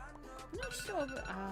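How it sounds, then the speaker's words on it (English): An alarm rings in a Minecraft Christmas biome world, a brief tonal ringing over a steady background, with someone talking over it. "that's the alarm"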